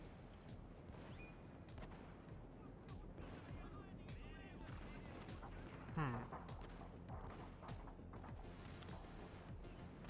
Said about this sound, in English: looks like we're gonna have a first matchlock volley.